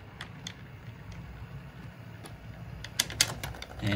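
An HO scale model train of a 1959 New Haven layout runs over a rough track section, giving faint irregular clicks and ticks over a low rumble, with a few sharper clacks toward the end.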